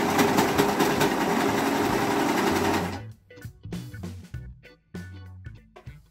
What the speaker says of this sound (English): So I'm gonna try using my serger here